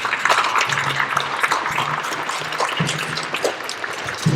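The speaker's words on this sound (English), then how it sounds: "So let's give COA and the performing arts staff a round of applause." An audience at a high school band spring concert applauding, a dense, continuous wash of clapping from a crowd filling the hall, loud and sustained throughout, with faint cheering mixed in.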